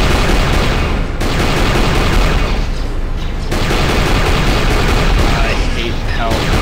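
Laser turret gunfire in Star Wars Knights of the Old Republic II: The Sith Lords, a dense, loud stream of blasts and booms that pounds on continuously, with brief dips between bursts and a voice speaking over it.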